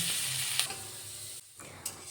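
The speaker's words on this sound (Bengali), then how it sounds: "এখন আর একটু নেড়ে চেড়ে ভেজে নিলে ডালটা ভাজা হয়ে যাবে" Lentils fried with a little salt in a pan, sizzling steadily up close while a utensil scrapes and stirs them in short clattering strokes.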